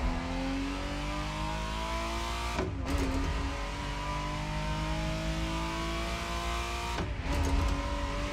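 Ferrari Testarossa engine in The Crew Motorfest racing game, revving loudly and steadily close up, with two brief dips where the engine note breaks as gears shift.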